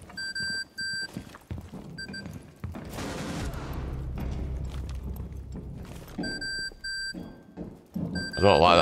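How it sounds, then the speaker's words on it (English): Sharp electronic beeps from the video game Rainbow Six Siege sound in short repeated bursts, mixed with gunfire and heavy booms, and the beeping returns near the end of the shooting. "I don't like that beep."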